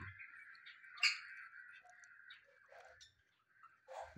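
Small birds chirp and tweet in a leafy aviary, a few faint scattered calls with brief sharper notes, fairly quiet and close.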